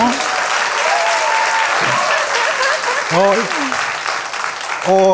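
Steady, full audience applause fills a studio talk show on science and humanities, with a voice speaking over the clapping throughout.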